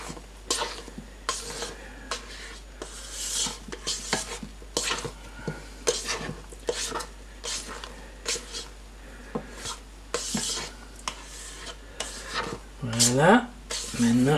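A dessert cream stirred by hand with a utensil, not a whisk, giving repeated soft scraping strokes against the bowl in a steady rhythm, with a brief squeaky sound near the end.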